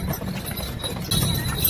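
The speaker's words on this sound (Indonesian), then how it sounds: "Sekarang kita naik kuda kuda." Hooves clip-clop as a horse is ridden on a horse ride in Jakarta: a soft, steady clopping rhythm under outdoor background noise, moderately close, with faint voices around.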